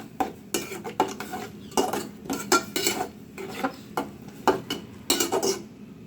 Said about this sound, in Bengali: এখন আমি মশলাটা ভালোভাবে কষিয়ে নিচ্ছি।